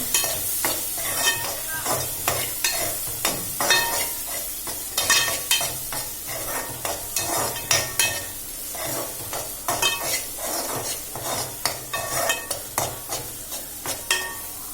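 Ginger-garlic paste and drumstick pieces fry in a pan for an egg and raw cashew curry, with a spoon scraping and stirring in a busy, uneven rhythm over continuous close sizzling and no talk.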